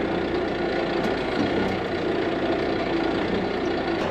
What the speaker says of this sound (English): This is a whole pallet of block. This tractor does not like this, guys.